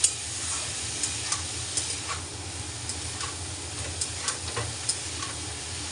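Pieces of ash gourd and potato sizzle softly in a pan, a steady quiet frying hiss broken by small periodic stirring clicks and taps, with no talking.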